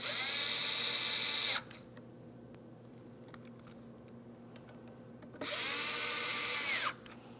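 A power drill tightens a window regulator bolt on a 2003-2008 Toyota Matrix in two loud whirring bursts, separated by a few seconds of quiet with small clicks and handling noises.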